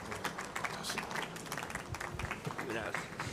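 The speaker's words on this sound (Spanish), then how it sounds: "Siguen aplaudiendo." A church congregation applauds in a dense, steady patter of many hands clapping, with voices mixed in throughout the crowd.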